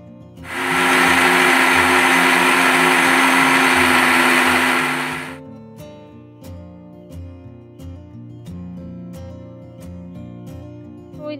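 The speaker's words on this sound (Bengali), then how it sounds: "এখন এটা ছেঁকে এটা ওই মিক্সিতে পেস্ট করে নেব" A mixer grinder purees boiled spinach into a paste, its loud, steady motor whir running for about five seconds before cutting out, followed by quieter kitchen clatter.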